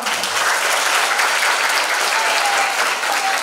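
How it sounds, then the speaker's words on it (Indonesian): An audience at a teachers' seminar in Gontor applauds to welcome a speaker, a dense, even clapping that carries on throughout without a break. "Langsung saja kita sambut dan beri tepuk tangan yang meriah kepada Al-Ustadz Happy Chandrayana M.Icom."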